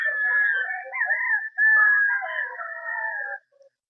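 Gamefowl brood cocks and bull stags crow in overlapping calls, several long strained cock-a-doodle-doos layered together close by, continuous for a few seconds before cutting off.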